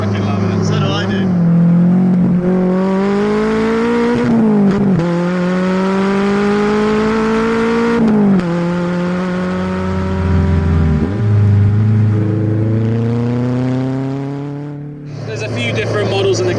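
Caterham 310R sports car accelerating hard, its engine note climbing through several gears in rising sweeps with brief dips at each shift, loud and close, with voices partly over it.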